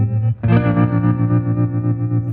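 A guitar note pulses through a tremolo effect set to a more abrupt, choppy wave shape, its volume chopping rapidly after a brief dip near the start, sounding close, sustained and alone.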